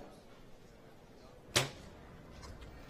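A single compound bow arrow shot in a women's bronze-medal archery match gives one sharp, brief snap and thud midway, alone against quiet background ambience.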